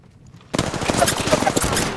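Automatic gunfire in Apex Legends bursts in after a short quiet lead-in, a rapid rattling stream of close shots that runs on to the end.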